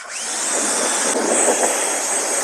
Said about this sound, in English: after going a little bit harder with the pressure washer, trying to get as much off as I could